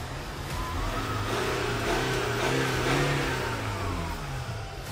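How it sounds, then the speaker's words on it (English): A Range Rover Velar SUV engine, which is blowing black smoke, revs up steadily as it accelerates, a continuous rising motor roar close by with no talking. "So let's accelerate. Let's see how it is."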